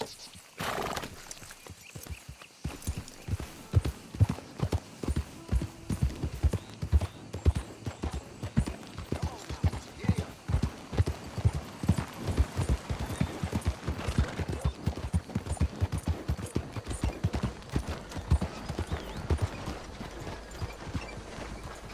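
A horse gallops in Red Dead Redemption 2 with steady, close clip-clop hoofbeats running throughout, broken by a neigh near the start and light rider talk over the rhythm.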